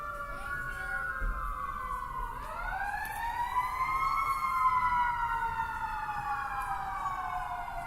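Fire engine sirens wail from a firehouse very close to a baseball playoff game, a loud rising and falling siren sweeping up and down over several seconds, near and dominant with faint ballpark ambience beneath.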